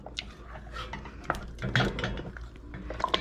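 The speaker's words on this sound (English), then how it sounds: "put your sugar in and mix it thoroughly" Metal spoon scraping and clinking against a cooking pot while sugar is stirred into thick kimchi paste, a close, busy run of irregular knocks and scrapes.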